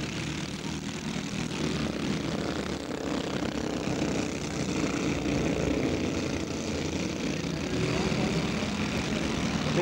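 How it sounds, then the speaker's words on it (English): Briggs and Stratton-powered dirt karts race at the 1996 SA Dirt Kart Titles, a loud, steady engine drone that holds continuously without a break. "Briggs and Stratton karts, all very even."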